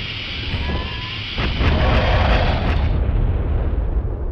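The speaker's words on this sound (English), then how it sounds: "So many explosions." Explosions in the video game Duke Nukem 64: a sustained loud roaring blast with broadband rumble, intensifying midway and then fading into a lower rumble, with no speech.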